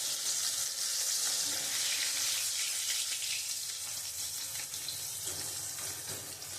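Potatoes and pointed gourd (potol) fry in hot mustard oil left over from frying fish, giving a steady, close hiss and sizzle that fades slightly toward the end, with no voices.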